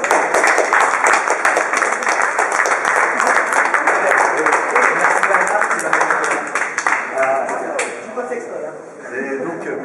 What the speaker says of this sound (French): vous pouvez tous applaudir Julien